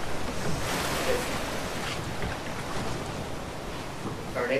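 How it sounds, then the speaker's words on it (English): A waterfall in the video game A Way Out sends up a broad, constant rush of falling water, loud and close, with a steady hiss and no pauses or talk. "Waterfall!"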